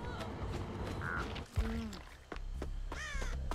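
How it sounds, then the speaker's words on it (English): Crows cawing as birds circle a character in a video game, several harsh caws at moderate distance over game background noise, with faint talk. "She has birds circling around her right now."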